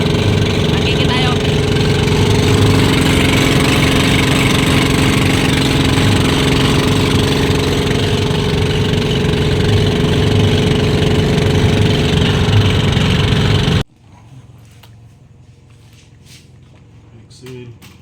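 A newly acquired fishing boat's motor drones loudly and steadily up close for most of the stretch, then cuts off abruptly, leaving quiet low noise.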